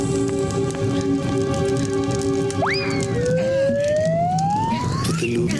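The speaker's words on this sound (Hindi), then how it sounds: "फायर ब्रिगेड बुलाओ जल्दी।" Cartoon fire brigade siren wails and rises in pitch over steady rain-like hiss and background noise, sweeping upward and sustained for a couple of seconds.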